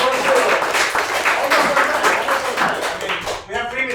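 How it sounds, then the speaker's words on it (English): Lively audience applause after a hackathon pitch on decentralized justice, thick clapping with voices mixed in and a brief dip before the end. "All right, a round of applause."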